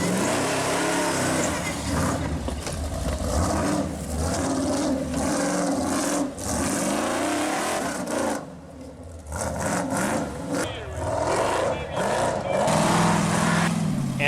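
A mud racing truck, Richie Tremblay's Pork Chop, roars at full throttle through a mud pit, a loud, sustained rough engine blare with surging revs and brief dips, an announcer's voice woven through it.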